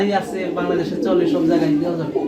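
Lahori and Siraji pigeons at a farm giving low, throaty coos close by, repeated soft rolling calls mixed with some background talk.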